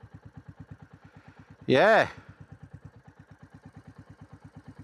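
A Royal Enfield Classic 350 motorcycle engine idles with a steady, rhythmic low thump, briefly interrupted midway by a short spoken word close to the recorder.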